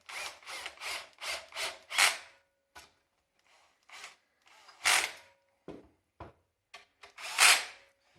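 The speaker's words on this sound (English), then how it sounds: "and then get your drill" Short bursts of a power drill whirring as it tightens screws while fitting the main door glass on a pizza oven, several in a row with brief pauses, then a few isolated quicker spins, close and fairly loud.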